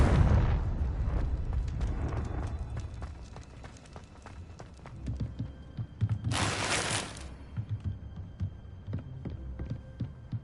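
A Confringo spell is cast in the video game Hogwarts Legacy. Booming explosions sound near the start and again mid-clip, one with a bright burst, amid running footsteps and scattered game impacts.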